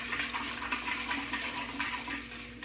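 Water pours steadily into a pitcher, about 8 cups for sweet tea, a continuous splashing rush close by with no one speaking.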